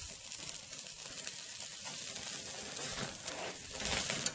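Deer burgers sizzle steadily in a pan on a stove, a continuous close frying hiss with occasional crackles that grow slightly louder toward the end.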